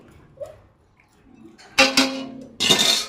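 A utensil stirs fried onions in a metal cooking pot, giving two bursts of scraping and clinking after a quiet stretch with faint soft taps.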